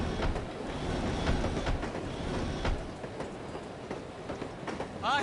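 Rumbling passenger train ride in the video game No One Lives Forever, with steady broadband rolling noise and rhythmic wheel clicks on the rails, a brief high squeal near the end.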